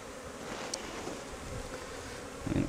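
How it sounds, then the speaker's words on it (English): Honey bees buzz steadily from a Flow Hive during a vertical split, a continuous close insect drone with no voices. "So we can just see a couple of bees left here."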